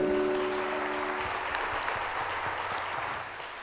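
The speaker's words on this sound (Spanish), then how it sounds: "Le damos un aplauso a Él." A congregation applauds steadily, a dense wash of clapping that holds for several seconds and slowly thins toward the end.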